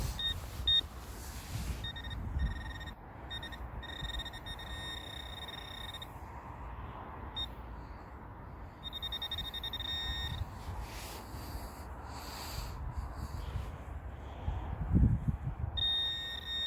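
A metal detecting pinpointer sounds off in repeated steady electronic tones that come and go over outdoor field ambience, with soft rustling and thuds from digging in the soil.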